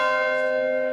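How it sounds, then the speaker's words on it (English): A newly cast bell, one of eight made for the Jubilee river pageant on the Thames, rings with a sustained metallic tone rich in steady overtones, loud and clear without speech. "Prince Charles has now tested one of the 8 new bells cast for the occasion"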